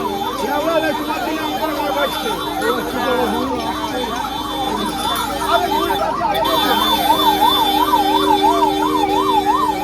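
An ambulance siren wails continuously in a steady rising-and-falling pattern, loud and close, as the ambulance sits stuck at a closed railway gate amid a crowded Tarakeswar pilgrimage road, with traffic rumble and voices around it.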